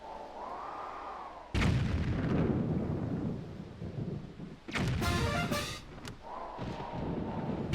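A shot is fired in the video game Zelda Wind Waker HD, two heavy booming blasts a few seconds apart, each with a rumbling tail. A soft tonal game sound hums before and after them.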